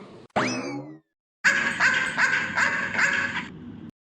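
A dog barks and yips repeatedly, a quick cluster of sharp close barks after a brief springy boing-like effect and a short silence.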